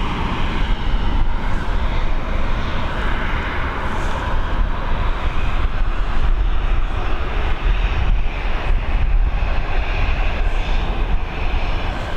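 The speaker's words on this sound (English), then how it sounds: "decent takeoff. Was Learjet heading over to Cologne" A Learjet takes off from runway 28L at Dublin Airport in the evening. Its engines roar loud and continuous for the whole stretch, with some wind buffeting the microphone.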